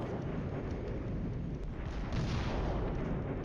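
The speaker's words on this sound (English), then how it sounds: "so that was a pre-planned strike." Artillery strike in the Flashpoint Campaigns war game, a faint, continuous rumble of distant booms and blasts rolling on without pause.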